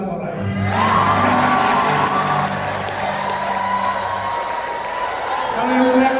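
A graduation ceremony crowd at Universitas Islam As-Syafi'iyah shouts, cheers and whoops loudly and steadily, with scattered clapping and voices rising over a broad roar of many people.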